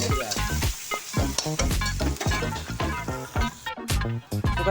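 Chopped onion frying in a pan for a mixed vegetable curry gives a steady, loud, close sizzle broken by frequent stirring scrapes and clatter, with no talking.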